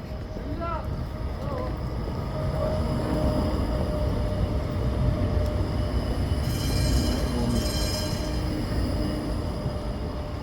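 A tram rumbles past along a street in Budapest or Bratislava with a steady low roar, faint squeals and wind noise; people can be heard talking over it.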